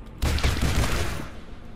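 Rapid burst of automatic pistol fire in the first-person shooter game This Strange Realm Of Mine, loud and dense for about a second before trailing into echo.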